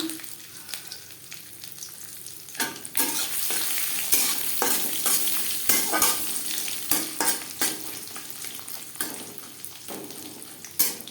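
Grated coconut fries in refined oil with panch phoron and bay leaves for a vegetarian jackfruit curry, giving a steady sizzle broken by repeated scraping stirs of a spatula against the pan, close and fairly loud.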